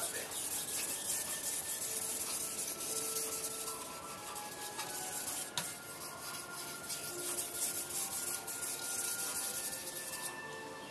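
A single bevel chef knife rubbed steadily across a sharpening stone on its back side to remove the burr, giving a continuous close scraping and rasping sound with no voices.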